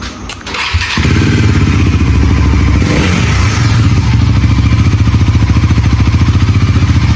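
A Bajaj Pulsar NS400 motorcycle starts with a brief clattering crank, then settles into a loud, steady close-up idle with an even rhythmic throb that continues to the end.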